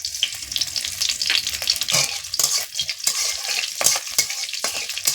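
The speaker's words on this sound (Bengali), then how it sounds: "তেলটা আমার গরম হয়ে গেছে একটা তেজপাতা কাঁচা লঙ্কা দিয়ে দিলাম আর কালো জিরা" Bay leaf, green chili and nigella seeds hit hot mustard oil with a loud, crackling sizzle, broken by repeated scraping stirs and sharp spatters, with no voices.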